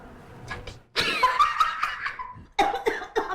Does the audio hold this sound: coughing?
yes